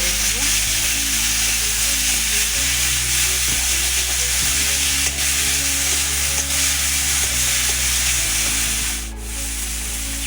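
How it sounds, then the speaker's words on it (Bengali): Ginger paste fries in a pan after the onions for a Bengali mushroom and potato kosha, giving a steady close sizzle and hiss over a low, constant hum. "আদা বাটাটা একটু ভেজে নিয়ে তারপরে টমেটো বাটাটা দিয়ে দিচ্ছি"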